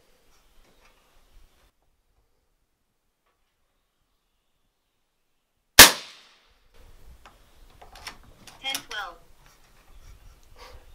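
A single loud, sharp crack from an AirForce Condor .22 air rifle firing a heavy slug at an outdoor range stands out from near silence, followed by quiet voices and faint handling sounds.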